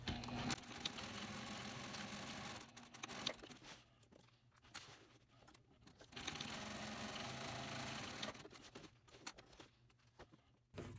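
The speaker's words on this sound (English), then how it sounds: "we're going to go to the machine and we're going to stitch just the parallel lines" A sewing machine stitches long parallel lines on a small box tote bag at a stitch length of 3, a faint, steady whirring hum in two long runs broken by short pauses, with no voices.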